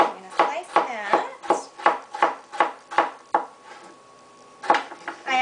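A knife slicing a tomato thinly on a board gives about a dozen crisp, evenly spaced chops, close and fairly loud, with a short pause before the last few strokes.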